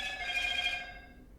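An Android phone alert rings with a bright electronic tone that holds for just under a second and then fades out, fairly quiet and heard alone.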